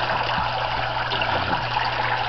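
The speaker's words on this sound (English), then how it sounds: "Nothing like the nice, refreshing sounds of running water." Running water trickles steadily through an aquaponics fish and vegetable rig built from a 325-gallon water tote, a continuous close splashing flow with a low hum beneath and no talk.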